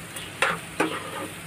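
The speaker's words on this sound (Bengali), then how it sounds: "এই যে এখন ডিমের ভুজি হচ্ছে দাসবাবুর তারে" Eggs frying in a pan and being stirred for Bengali egg bhujia with onion, with two distinct scraping stir strokes over a steady soft sizzle, close by and with no talk.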